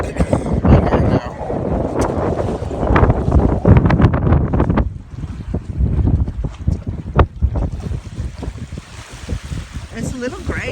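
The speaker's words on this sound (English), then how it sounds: "it's so windy" Wind gusting outdoors on a gray day, a heavy buffeting rumble on the microphone that eases after the first half, with voices talking over it.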